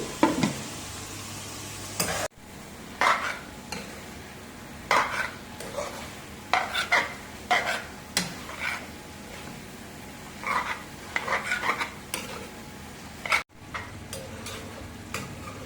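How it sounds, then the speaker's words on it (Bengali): A pot of corn greens with chopped potato bubbles on the stove while a utensil stirs and scrapes in irregular bursts, close and clear, with brief pauses and knocks against the pan. "ভুট্টার শাকের সাথে হচ্ছে আলু কুচি করে দিয়ে সিদ্ধ করতেছি"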